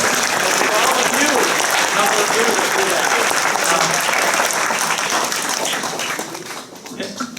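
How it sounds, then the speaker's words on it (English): Audience applause at a community tribute event: dense, steady clapping from a full room that carries on loud for about six seconds, then thins and fades toward the end. "You shouldn't clap for that."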